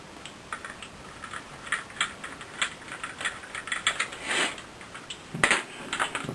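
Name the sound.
putting screws back into plastic parts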